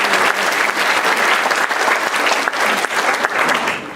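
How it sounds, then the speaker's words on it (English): Sustained audience applause at a community education book event at College of Marin: a thick, steady roar of many hands clapping at once, loud and continuous from start to finish without speech. "So again, let's give ESCOM a round of applause."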